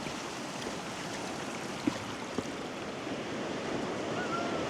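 Waves on Runkerry Beach: a steady, soft wash of surf with wind noise throughout and two faint brief knocks, no talk.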